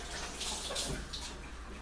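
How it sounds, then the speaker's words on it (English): Hands are rinsed under a running kitchen tap, a short soft wash of splashing water at low volume. "Rinse my hands out."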